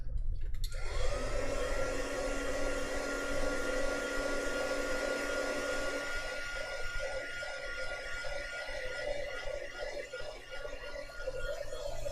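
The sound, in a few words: hair dryer drying a gongbi painting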